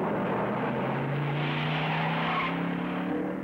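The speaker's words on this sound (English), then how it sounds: "So why does it keep downshifting with an automatic?" A car with an automatic transmission downshifts during a chase, its engine drone steady and loud with a rising and falling tone and a faint tire-like hiss throughout.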